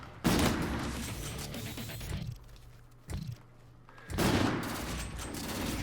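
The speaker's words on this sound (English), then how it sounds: "this gun shoots too slow, dude. It's way powerful. It's like shooting a cannon." A powerful single-shot sniper rifle in a video game fires loud, booming shots with short gaps between them.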